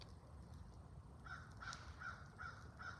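A crow overhead gives a run of five evenly spaced caws, fairly faint and distant, over a steady outdoor background hiss on a warm day.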